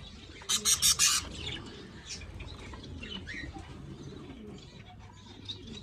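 Pigeons with their chicks, a burst of loud wing flapping near the start followed by soft low cooing and faint chirps throughout, close by.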